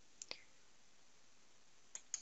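Mouse clicks sound in STAAD.Pro while delete is chosen from the clipboard tools, two quick pairs of faint, sharp clicks separated by a pause over a quiet background.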